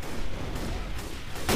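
Gunfire in the Left 4 Dead 2 video game, Dead Center campaign: a dense, steady barrage of shots that ends in one louder, sharp close blast.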